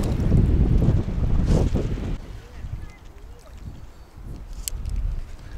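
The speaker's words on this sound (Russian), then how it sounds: "Да, ветер порывами." A strong gust of wind roars and buffets the microphone for a couple of seconds, then eases into a quieter breeze with lighter puffs.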